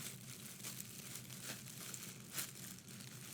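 Thin plastic bag crinkling close by, a soft, steady rustle with brief louder crackles, heard alone without speech.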